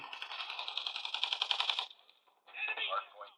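Rapid bursts of Call of Duty machine gun fire rattle in quick succession from a nubia Neo 3 5G phone, followed by a short pause and another burst.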